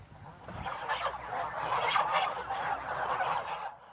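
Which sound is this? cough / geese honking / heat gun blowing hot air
geese honking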